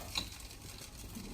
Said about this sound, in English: So I can hear the sesame seeds popping as well as the rice cracking now.